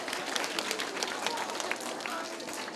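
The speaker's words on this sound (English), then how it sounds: "All right, give yourselves a round of applause." Schoolchildren at a music assembly applaud themselves, a dense, steady wash of many small hands clapping close by, with voices mixed into the noise throughout.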